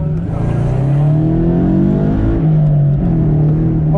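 A Scion FR-S idles and revs at an autocross start line, its engine a loud, close, continuous drone that swells and dips in pitch, with no talking.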